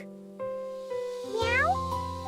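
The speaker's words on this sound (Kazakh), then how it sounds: "Мяу." A small kitten gives a few drawn-out, tonal meows. One rises and bends in pitch. The sound is clear and close, with little else around it.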